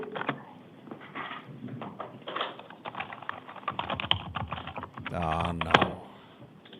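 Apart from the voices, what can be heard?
typing on computer keyboard in courtroom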